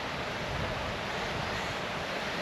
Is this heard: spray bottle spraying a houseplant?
no